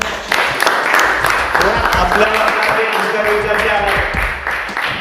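Classroom applause welcoming a bright new student from Beed, a steady patter of clapping lasting several seconds with students' voices and chatter mixed in over it.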